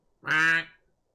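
A single honking call from a goose in the video game Medieval Dynasty, one short nasal squawk of under half a second, close and clear against silence.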